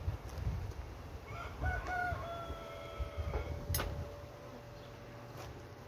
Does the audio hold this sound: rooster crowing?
yes